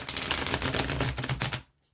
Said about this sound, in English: All right, let's see how they shuffle.